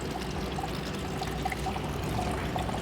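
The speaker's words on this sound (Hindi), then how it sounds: "ये देखिए पानी बाहर आ रहा है।" Water trickles steadily from a split AC unit's drain pipe during installation, a soft continuous pouring and dribbling, faint and close, with no talking.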